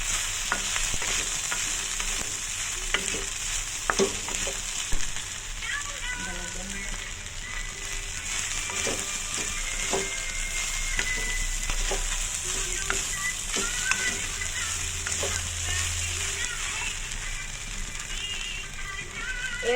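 Poha stirred and frying in a pan, giving a steady close sizzle with repeated scraping and clinking of the spoon throughout, with a little quiet talk beneath.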